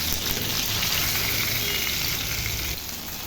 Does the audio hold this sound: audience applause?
no